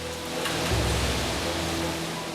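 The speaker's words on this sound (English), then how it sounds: "See the sheets of rain coming down as the wind picks up" Heavy rain and strong wind during Hurricane Ivan, a loud dense roar of driving rain with gusting wind swelling partway through, continuous and without speech.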